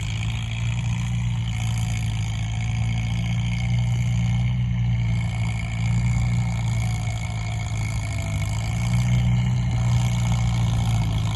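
A Kubota M7508 tractor engine runs loudly and steadily, a constant heavy diesel drone with no pauses, close by and without talk.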